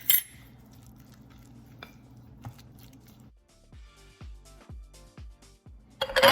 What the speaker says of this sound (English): now let's mix this together